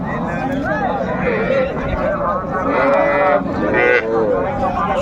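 Cows mooing at a busy Bangladeshi cattle market selling milking cows with calves, long drawn-out lowing calls heard close over a steady crowd murmur and people talking.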